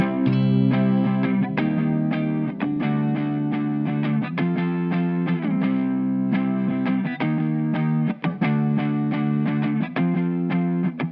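An acoustic guitar strums a chord progression starting on C, with steady rhythmic chords, close and loud, and no talking.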